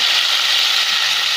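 Chopped green chillies and tomatoes sizzle loudly in a hot pan while rajma curry is cooked in a pressure cooker, a steady close hiss of frying with no voices.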